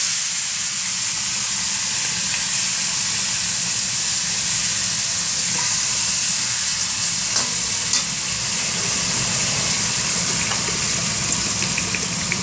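Hilsa fish hits hot oil seasoned with nigella seeds and bay leaves, producing a loud, continuous, close-up sizzle with a hissy, steamy texture that holds steady throughout.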